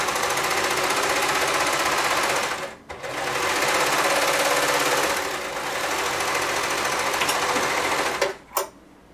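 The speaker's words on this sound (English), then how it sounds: "we're going to serge the armholes" Serger overlocking the armholes of a knit sweater, a steady fast mechanical whirring stitch that runs continuously with two brief pauses, near and loud with no talk.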